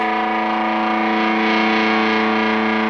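A distorted electric guitar chord, picked with the volume down, swells up from quiet to full, sustained and buzzing, holding steady for a few seconds before cutting off.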